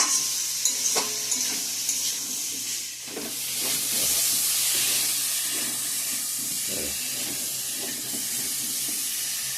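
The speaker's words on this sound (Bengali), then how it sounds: "তো এটা ভালো করে মশলার সঙ্গে কষানো হয়ে গেছে আলু পটলগুলো।" Potatoes and pointed gourd sauté with spices in a hot pan, a continuous sizzle and hiss with occasional stirring scrapes, close up and steady.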